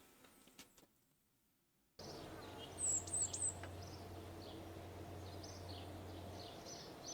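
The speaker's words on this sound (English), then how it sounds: "I hear the birds." Birds chirp faintly in a brief high cluster at the Space Center in Kerbal Space Program, with a steady low ambient hum underneath after a quiet start.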